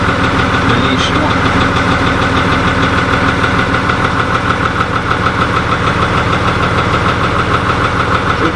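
A Fiatagri 180-90 tractor engine runs close and loud, a steady throbbing idle with a continuous knocking pulse throughout.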